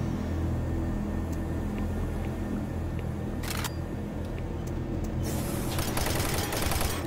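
Gunfire from the video game Doom 3 comes as a few short, sharp blasts and then a rapid burst of shots near the end, over a constant dense background drone.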